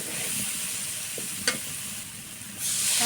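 Water poured into a pan of dried tengra fish curry frying in spiced masala: a steady, close hiss of sizzling oil with a short stirring clink, the sizzle swelling louder near the end.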